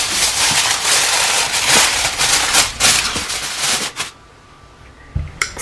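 Aluminium foil crinkled and pressed over a roasting pan of lamb, a dense run of crackling rustles for about four seconds, then quiet with a couple of short crinkles near the end.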